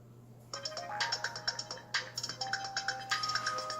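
A Motorola V3 RAZR flip phone on the Alltel network powers on, playing a bright melodic startup jingle of quick beeping tones over a steady low electrical hum, fairly faint and close.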